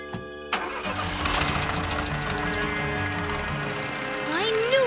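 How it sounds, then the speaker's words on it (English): A cartoon motor straining to turn over, with a sharp clank near the start, then a steady mechanical grinding hum and rising whines toward the end, loud and continuous. "heard this mechanical mistake for a motor trying to turn over"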